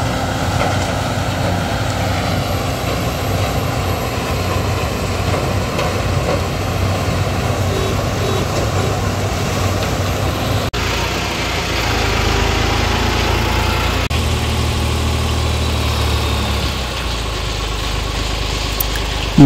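A Shaktiman sugarcane harvester works in a cane field with a loud, steady engine drone and a heavy low rumble. The machine's pitch and load shift partway through.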